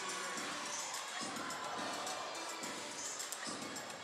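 Crowd at a college gymnastics meet cheering and shouting in bursts, a loud, dense roar of voices that swells and dips rhythmically over a few seconds.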